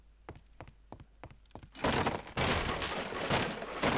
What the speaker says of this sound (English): Break all the boxes.